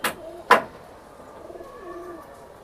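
Giribaj pigeons coo softly up close in a low, wavering murmur after two sharp clicks, with no talk.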